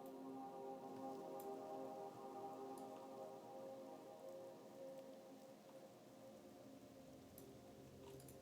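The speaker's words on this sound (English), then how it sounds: "I love the rain in Vanilla WoW." Steady rain ambience from the game Vanilla World of Warcraft: a soft, continuous patter of rainfall held at low volume throughout, with no voices or other sounds over it.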